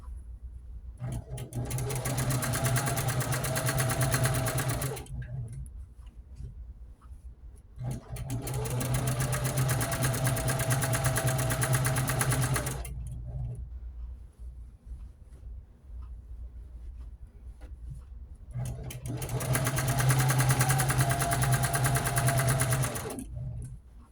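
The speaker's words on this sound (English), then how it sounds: "And I back stitch to secure it." A sewing machine quilts a gray section of a Jeep quilt just off the seam ditch, running in three long, loud, steady bursts of several seconds each with quiet pauses between, back-stitching to secure the line.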